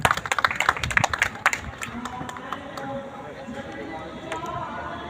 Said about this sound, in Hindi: आइए अतुल केशरी जोरदार तालियों से स्वागत करें